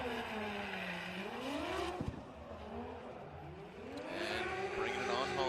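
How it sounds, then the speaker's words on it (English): A Toyota GT86 drift car on Nexen tires at a Formula Drift qualifying round, its exhaust droning and rising and falling in pitch as it holds a drift around the banking, loud and steady throughout with commentators talking over it. "Ready Performance Toyota Racing Toyota GT86 on Nexon tires. Yeah. Nice exhaust though."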